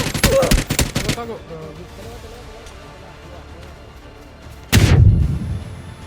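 Video game gunfire: a rapid burst of close, loud shots opens, then a quieter stretch with faint talk in the background, followed by one heavy blast near the end.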